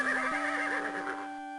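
A black horse in King's Quest VI lets out a loud, wavering whinny that rises and trembles before fading out.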